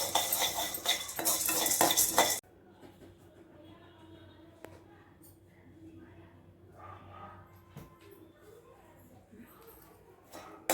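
Dry roasting lentil flour for paruppu podi: a loud burst of pan scraping and stirring, then quieter intermittent spoon taps and shuffling against the pan while someone talks.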